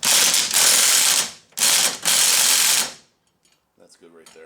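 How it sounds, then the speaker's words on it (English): A ratchet tightens a bolt to draw in an axle part on a Polaris RZR 1000 during an axle repair: two long, close bursts of rapid clicking with a short pause between, then near quiet with faint handling sounds. "I'm going to tighten this down here and then draw it in the rest of the way"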